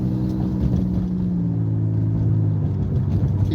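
A car engine hums steadily from inside the cabin as the driver gently accelerates in traffic, a low droning rumble with rising harmonic tones.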